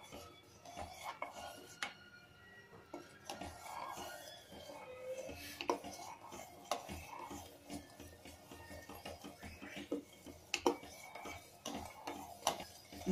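Custard being stirred in a pot on the stove as it thickens: a steady run of spoon scrapes and light clinks against the metal, close and fairly quiet, with no talk.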